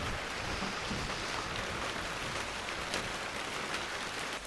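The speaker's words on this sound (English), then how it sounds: "So it's abated a little bit, the rain." Rain falls outdoors in a steady, dense hiss of drops pattering on surfaces, continuous and fairly close with no voices.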